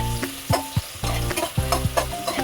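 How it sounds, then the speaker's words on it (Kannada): Onions fry in a pan until brown for butter garlic mushroom palak rice, with a soft sizzle under repeated, rhythmic scrapes and clinks of a spoon stirring the pan, and no talking. "ಈರುಳ್ಳಿನ ಚೆನ್ನಾಗಿ ಸ್ವಲ್ಪ ಬ್ರೌನ್ ಆಗುವವರೆಗೆ ಫ್ರೈ ಮಾಡಬೇಕು"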